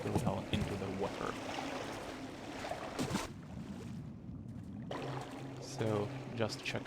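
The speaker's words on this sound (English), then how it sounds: "nobody hears me splashing into the water here" Player character splashing into water in the stealth video game Thief Gold, sloshing and churning water sounds that rise and fall over several seconds, with a brief quiet gap midway.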